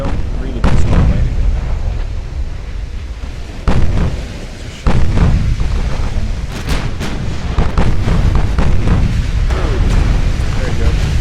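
18-inch super battleship guns firing in the naval game Ultimate Admiral Dreadnoughts, heavy booming salvos and rumbling blasts that fill the whole stretch loudly, with someone talking over the barrage.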